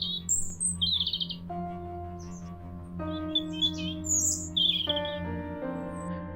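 A European robin sings in a laurel, high, thin phrases trilling and warbling in short bursts over a steady low hum and sustained background tones.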